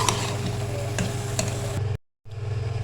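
A spoon scrapes and clinks around a pot of sizzling turnip and meat curry with garam masala, a steady frying hiss under light stirring taps, broken by a brief moment of silence.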